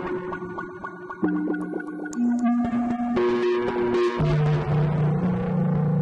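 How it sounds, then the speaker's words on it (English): Distorted delay and reverb tails from an Endorphin.es Ghost effects unit: gritty, sustained tonal notes that repeat and smear into a dense, continuous wash, loud and alone without speech. "the delay tails and the reverb tails are getting distorted"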